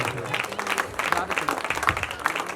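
Audience applause at a school annual day celebration, a steady wash of many hands clapping across the hall, fairly close and continuous with murmuring voices mixed underneath.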